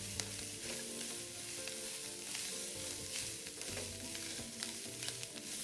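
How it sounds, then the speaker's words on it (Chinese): Shredded white radish and taro stir-fried together in a wok over raised heat, a steady close sizzle with scraping spatula strokes and clinks throughout, no talking. "再将全部食材一起拌炒，稍微炒干、炒香。"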